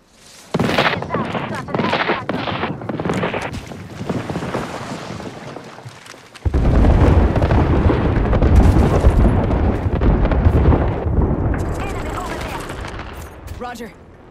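Bangalore's artillery strike in Apex Legends: a rapid string of sharp launch thuds, then a heavy, rumbling barrage of loud explosions that rolls on for several seconds, with a voice speaking over it.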